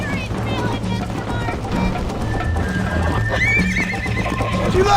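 Horse whinnying and hooves galloping in Red Dead Redemption, played on PC, with a rapid steady clip-clop under a loud neigh, a voice and background game music.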